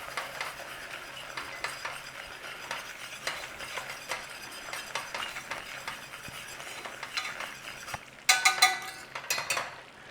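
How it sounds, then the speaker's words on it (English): Flour is stirred into garlic in a pan for a potato and ham casserole, a soft continuous scraping and light sizzle with faint utensil clinks, ending in a brief louder clatter of the spoon against the pan. "Nice little stir in."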